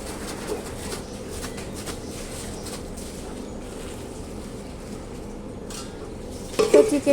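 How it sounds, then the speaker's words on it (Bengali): Onions frying in a pan on a home stove give a steady, moderate sizzle throughout, with light utensil clinks near the end. "পেঁয়াজ ভাজা চলছে এখন।"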